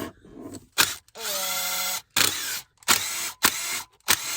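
Power drill backing screws out of Ford RS car parts during a fitting job: a series of short whirring bursts, close and loud, with brief pauses and clicks between them.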